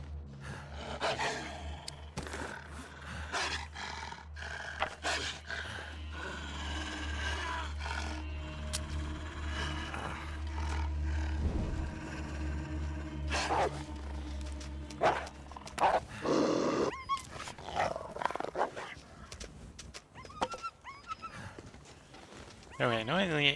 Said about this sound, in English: There's the wolf.